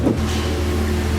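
A Spoon Honda NSX-R turbo surges forward with high boost engaged, its engine roaring loud and close in one steady, sustained pull with no voices over it.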